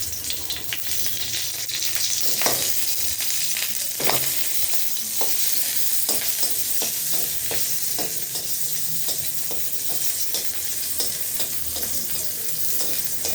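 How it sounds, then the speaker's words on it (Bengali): Black cumin and green chilli fry in a little oil for a beetroot dish, a steady close sizzle broken by repeated scraping strokes of a stirring spoon. "এই যে কালো জিরে আর কাঁচা লঙ্কা ভাজা ভাজা হয়ে গেছে"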